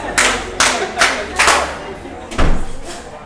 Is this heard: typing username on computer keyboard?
no